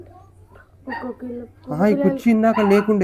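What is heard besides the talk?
puppies barking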